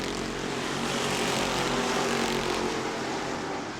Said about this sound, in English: Let them rip. Good old-fashioned V8 horsepower.